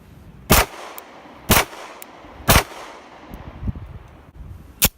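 Single shots from a CZ 75 B SA single-action pistol fired one-handed, four sharp loud reports spaced roughly a second apart with a fifth near the end, each followed by a short ringing decay.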